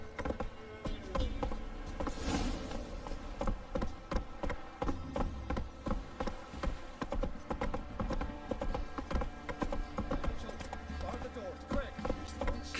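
Horse hooves clip-clop rapidly and steadily in a galloping rhythm in The Witcher 3, with buzzing insect-like ambience and voices speaking over the hoofbeats.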